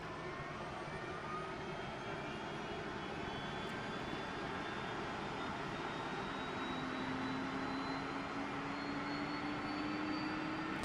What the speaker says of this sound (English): if you go outside the back of the airplane, of course you can hear the APU firing on up there